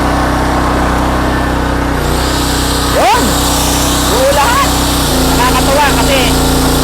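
A generator that doubles as a welding machine runs on test, a loud steady engine hum with a constant low drone, with brief higher whines and rattles over it while someone talks.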